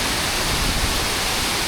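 Steady, dense roar of Ramboda Falls in Sri Lanka, a continuous broadband rush of water with no pauses, close and enveloping.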